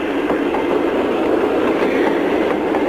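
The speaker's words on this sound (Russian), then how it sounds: "с этой сумасшедшей скоростью мчится поезд" A train speeds along the rails with a loud, dense, continuous rumble and rushing roar, close and steady throughout, with no voices.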